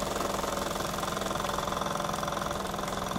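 A small steam engine runs steadily with a faint rhythmic knock in its beat, a busy mechanical chatter that holds constant and close throughout with no voices.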